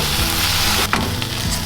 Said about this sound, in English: I'm going to add the green chili garlic paste to the pan.